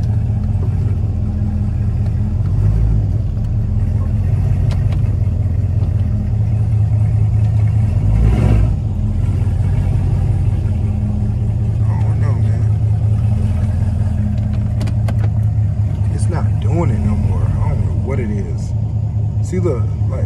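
A 2016 car with a check-engine fault (code P0700) runs in reverse, its engine humming at a low, steady drone with modest throttle rises while someone talks over it throughout.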